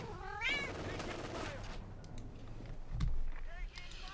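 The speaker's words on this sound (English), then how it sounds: "Yup, very dramatic kitty cat." A cat meows in a drawn-out, dramatic way near the start, heard in the background of a Company of Heroes 2 match commentary, with game sounds and a thud following.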